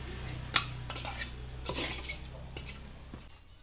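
A utensil stirring seasoned frog stew in a metal pot, with a sharp clank early on and scattered scraping, clinking strokes at close range over a low steady background hum.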